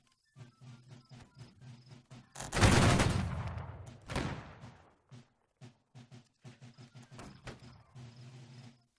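Musket volley in Holdfast: Nations At War, a loud rolling crackle of many shots mid-clip with a second report, set against a quiet ambient bed with chirping insects.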